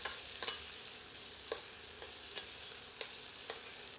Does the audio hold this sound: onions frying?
yes